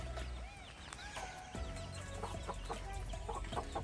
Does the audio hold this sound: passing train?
no